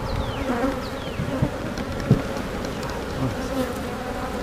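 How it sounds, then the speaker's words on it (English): Dense, steady buzzing of many honeybees up close in a hive box, a constant hum with individual insects whining past. "There's a lot of bees in this box."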